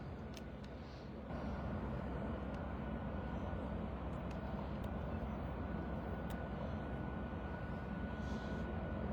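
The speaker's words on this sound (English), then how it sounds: "This little plane here," A steady, droning engine hum from a single-engine light aircraft rises and holds at a constant, moderate level throughout, with no voices.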